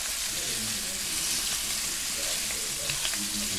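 Chicken thighs browning in a pan give a loud, dense, continuous sizzle and crackle, with brief scraping and clatter as pieces are turned over, and no talk.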